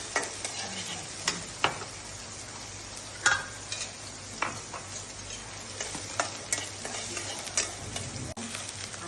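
Onions fry in a pan with a busy sizzle while a spoon stirs them, making repeated scraping clicks and taps close by, with no talking.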